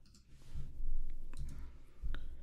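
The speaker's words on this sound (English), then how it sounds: "I'm clicking Enter." A computer keyboard's Enter key is pressed, giving a few soft, separate clicks close by in a quiet room.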